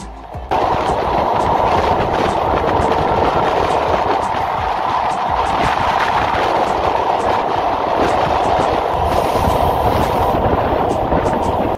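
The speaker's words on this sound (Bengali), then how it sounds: "সেতুতে ওঠার পরে কিন্তু ট্রেনে প্রচণ্ড জোরে আওয়াজ হতে শুরু হয়েছে" A passenger train crosses the Buriganga rail bridge on the Dhaka to Mawa line at high speed in fog, giving a loud, close, continuous roar with rapid rattling clatter of wheels on rails that never lets up.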